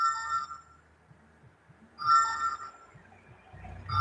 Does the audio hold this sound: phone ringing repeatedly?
yes